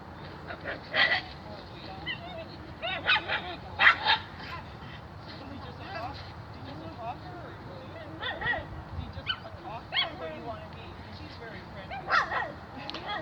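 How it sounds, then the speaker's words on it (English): Small terrier barking in short, high yappy bursts, scattered across the clip at moderate distance, with some background voices. "We have a little tiny terrier who's barking"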